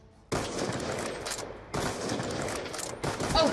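Sustained automatic gunfire in a Call of Duty Black Ops 2 one-on-one match, three loud close bursts separated by brief gaps, with no talking.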